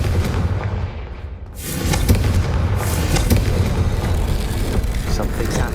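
A Confringo blasting spell goes off in the Hogwarts Legacy video game, a sudden loud explosive boom that rolls into a dense, sustained rumble of blasts and debris, heard with no talking.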